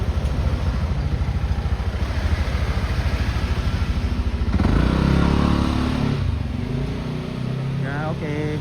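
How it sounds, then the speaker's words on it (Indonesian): A motorcycle engine idles with a steady, rapid pulse, then revs up louder before settling again, close by, while people talk over it. "Nanti saya ada motor ya."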